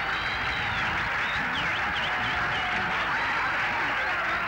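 A crowd of spectators at a 1970 wrestling bout applauds and cheers in a dense, continuous roar, heard as an even wash of noise with a voice talking over it throughout.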